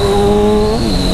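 Loud, close Kawasaki Z1000 motorcycle engine howl through a loud exhaust, with a steady high pitch that dips as it shifts, revving hard; no talking.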